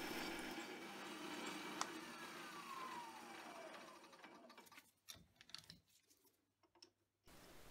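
A lathe turns down a metal shaft in a shed workshop, a steady whirring cut with a falling whine that fades out halfway, followed by quiet clicks and handling sounds, faint overall.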